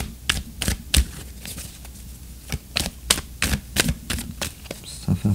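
Tarot cards riffled and shuffled for a reading, a run of crisp snapping flicks in irregular bursts, close and clear with no talking.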